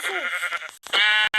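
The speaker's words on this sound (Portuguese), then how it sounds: "Ó, tem outra ovelha." Sheep bleating in the Minecraft video game, a few close, loud nasal bleats with a short gap between them, heard alone with no talk.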